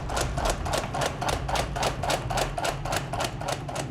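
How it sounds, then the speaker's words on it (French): A hydraulic power hammer pounding layered steel while forging a blade, striking loudly in a fast, even rhythm of about four blows a second, steady and close with no voices. "à l'aide d'un marteau hydraulique qui frappe l'acier 240 fois par minute"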